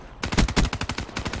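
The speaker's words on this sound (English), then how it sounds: "I like this LMG, guys. It has a really fast fire rate." A rapid burst from the Dingo light machine gun in Black Ops 3, a fast, evenly spaced string of loud close shots rattling for about a second.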